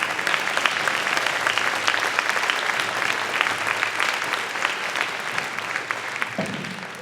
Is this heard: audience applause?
yes